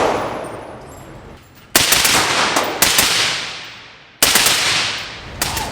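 Unsuppressed gunshots: three loud, sharp cracks a second or two apart, each followed by a long decaying echo, with a fainter report near the end.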